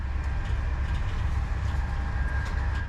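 Steady low rumble of a high-speed train picking up speed, with a rising whine and faint rhythmic rattling throughout.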